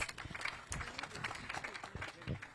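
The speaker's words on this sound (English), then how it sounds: "Can we give him a big applause?" Audience applause at a parliamentary forum on water, sanitation and hygiene, scattered clapping from a moderate crowd, fairly faint and uneven, continuing for a couple of seconds.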